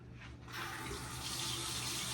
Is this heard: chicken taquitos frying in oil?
no